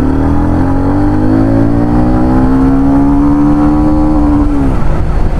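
A TVS Ronin 225 motorcycle engine revs up in one long, smooth climb, its pitch rising steadily toward about 9000 RPM before cutting off sharply near the end; loud and close.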